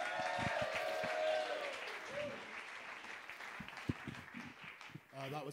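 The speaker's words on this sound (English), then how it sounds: "Please welcome to the stage with a massive, rapturous round of applause, Mr. Nick Page." Audience applause and cheering at a live comedy final as a comedian takes the stage: a dense, steady roar of clapping that gradually thins, with a voice over it and scattered louder claps near the end.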